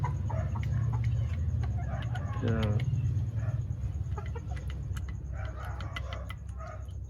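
An Allen Roundhead hen and other chickens cluck and call near the microphone at a farm, with a brief rooster-like crow in the middle; a voice speaks briefly over the low background.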